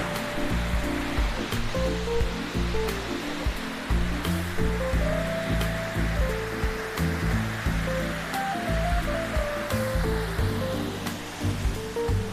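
A constant rushing roar of a waterfall fills the background while music with a steady melody plays over it.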